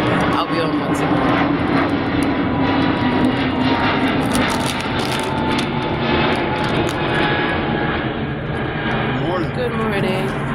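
Steady broad roar of a fixed-wing airplane passing overhead, loud and continuous throughout with a faint voice underneath.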